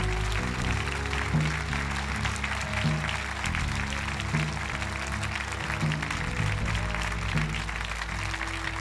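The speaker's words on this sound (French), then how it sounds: "l'applaudir de tout votre cœur?" Church congregation applauding the Lord, a continuous wash of clapping from many people sustained under a low droning organ or keyboard chord throughout.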